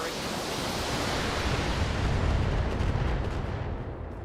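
Mech weapons firing in BattleTech, heard as a dense roaring blast of noise that swells and rolls on for several seconds, loud and close, with no talk over it.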